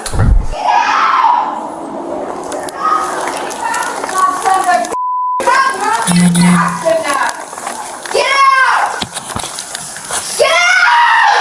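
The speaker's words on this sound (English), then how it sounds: "Stop screaming!" A woman screams loudly and repeatedly while resisting officers during a police arrest, her shrill cries cutting through tense, hurried talk and commotion, with a brief electronic beep partway through.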